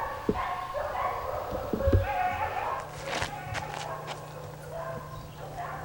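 Dogs barking near a disc golf course, heard as a few sharp yips and barks in the middle, not very loud, over outdoor background noise.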